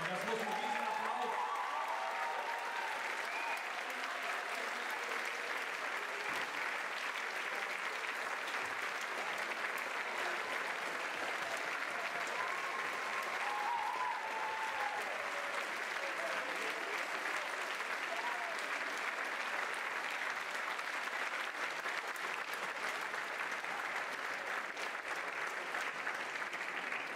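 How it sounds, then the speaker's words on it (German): Sustained, dense audience applause fills the hall after a school panel discussion on economic policy at a Hamburg gymnasium, a steady roar of many hands lasting throughout with faint voices underneath. "Und das muss ein riesen Applaus."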